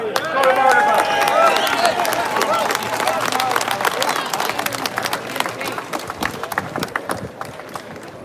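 A free speech rally crowd at the Custom House in Dublin breaks into loud, dense clapping that gradually thins and fades, with some cheering and voices mixed in.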